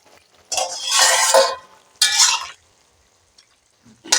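A cooking pot's lid lifted off while shrimp and ash gourd cook: two loud, close bursts of metallic clatter and scrape, separated by quiet, with a faint knock at the end.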